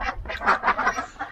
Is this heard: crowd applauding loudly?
no